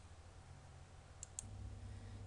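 Two quick, faint computer mouse clicks land close together near the middle, over a steady low hum of room noise and no speech.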